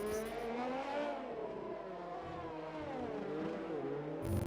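A race car engine in the RSF1 racing game on the Monaco street circuit, revving and shifting up and down through the gears in a continuous whine, fairly loud and alone.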